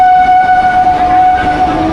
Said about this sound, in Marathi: तर मित्रांनो फायनली आपली ट्रेन आली आहे